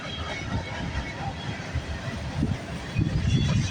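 Long freight train passing in Milton, Ontario: a steady, close low rumble of rolling cars with rhythmic wheel clatter swelling near the end.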